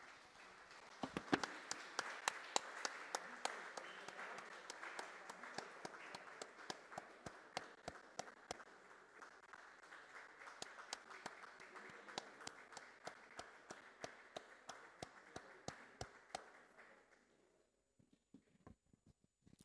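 An audience at a closing ceremony claps in a long, sustained round of applause, with sharp individual claps standing out over the crowd, until it thins into a few scattered claps at the end.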